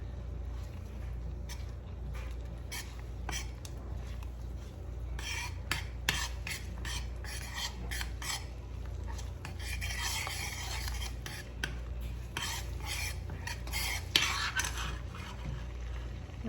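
Cajun seafood sauce stirred in a pan, with soft rhythmic scraping and rubbing strokes of a utensil over a low steady hum, growing busier partway through.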